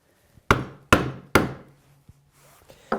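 A chisel is struck through wood fibers while cutting a hinge leaf mortise, three sharp evenly spaced mallet blows, then a lighter tap and a final strike, close and alone.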